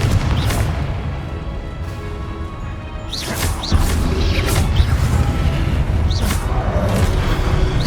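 Confringo spell blasts in Hogwarts Legacy on PS5, a series of booming impacts with whooshing bursts over a dense continuous rumble of combat, loud and close.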